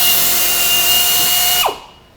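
A power drill bores 13/64 holes during assembly of a PolyJohn unit, giving a loud, steady high whine that winds down sharply near the end, close up with no talk.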